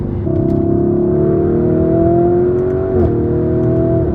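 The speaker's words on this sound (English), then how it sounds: "the mode makes the upshifts and downshifts that much more brutal" A Lamborghini Urus, a 640-horsepower SUV, revs its engine in a loud, sustained drone with rising pitch and a sharp gear shift partway through, heard up close with no talking.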